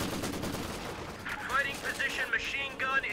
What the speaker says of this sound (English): his machine gun can shoot right into that house, apparently